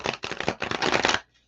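A brief burst of tarot cards being shuffled, several quick riffling pulses close up, ending abruptly in near silence.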